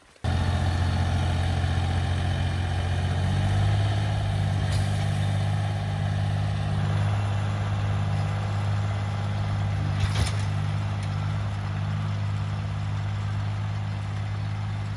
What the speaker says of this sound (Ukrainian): Трактор пішов в перший слід.